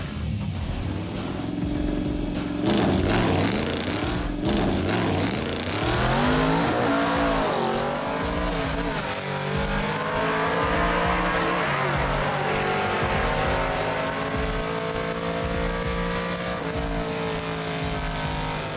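A car engine roars continuously at high revs during a burnout, with screeching tire squeal, loud and sustained throughout, pitch rising and falling slightly.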